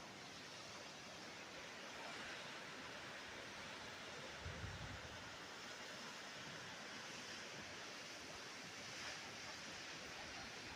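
Kaaterskill Falls waterfall, water coming down as a steady, even broadband roar heard from a distance, constant and unbroken, with a brief low thump midway and no voices.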